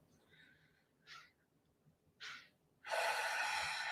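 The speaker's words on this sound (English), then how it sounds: "Go ahead and take a deep breath in" A deep inhalation taken close up in a quiet room, with a few short sniffs or breaths first, then a long, loud, airy intake drawn through the nose or mouth.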